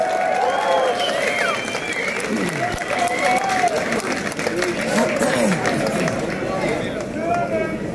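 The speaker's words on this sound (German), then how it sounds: "Ein Applaus!" Applause from an audience at a team points-scoring finale, steady dense clapping with cheering voices and a host talking over it throughout.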